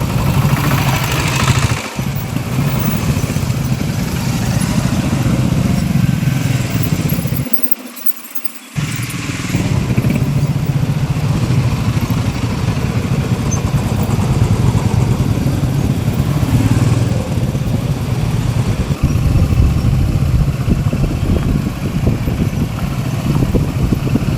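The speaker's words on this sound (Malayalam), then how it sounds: "ബൈക്കുകൾ 40-ലധികം ബൈക്കുകളിലായാണ് റാലി നടത്തിയത്." A bike rally of more than forty motorcycles heading toward Nelliyampathy and Pothundy, with a loud, continuous engine drone from passing bikes, dipping briefly before the roar returns.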